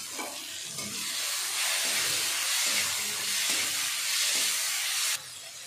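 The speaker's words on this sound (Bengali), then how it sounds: "এবার আমি ভেজে রাখা মোরলা মাছগুলো দিয়ে দেব।" Fried morala fish dropped into a hot pan of curry with chilli powder, a loud continuous sizzle and hiss rising as it lands, with light stirring scrapes underneath before the sizzle drops slightly near the end.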